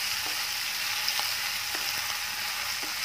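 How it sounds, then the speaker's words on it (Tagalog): Boiled shrimp frying again in a pan, a loud continuous close-up sizzle with a few faint stirring ticks. "Tapos ngayon, piprito natin ulit para mas"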